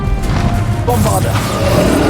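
A Bombarda blasting spell going off in Hogwarts Legacy, one sudden loud crashing explosion that rings out and rumbles away over about two seconds.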